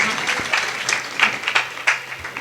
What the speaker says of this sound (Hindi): एक बार जोरदार ताली से इनका सम्मान करिए आप लोग